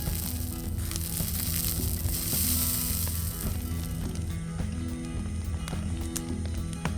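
Deer meat sizzling as it cooks over a fire in the survival game Mist Survival, a steady close frying hiss with low rhythmic mechanical clicks and rumbling beneath, continuous throughout.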